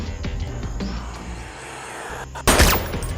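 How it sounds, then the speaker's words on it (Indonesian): A single loud, sharp gunshot in a gangster film bursts out after a stretch of low rumbling scene noise, then fades back into the background. "Pandit melepaskan tembakan untuk menghabisi polisi bejat ini"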